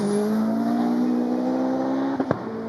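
An 800hp Ford RS200 rally car at full throttle climbing the Goodwood hill course, its engine droning as a steady high note that rises slowly, with a couple of sharp cracks near the end.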